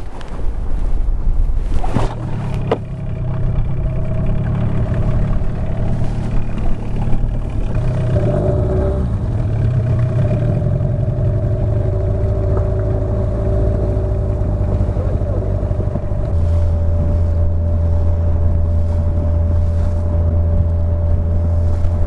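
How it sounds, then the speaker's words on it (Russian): A boat's outboard engine turns over and catches on a lake late in the fishing season, then idles and runs with a steady, loud drone that deepens near the end, with no talking. "Заводи движок, поздно будет."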